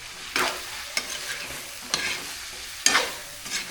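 Sweet and spicy chicken adobo being stirred in a pan, with a few distinct scraping strokes of the spoon against the pan over a soft, steady sizzle, fairly close and without talk.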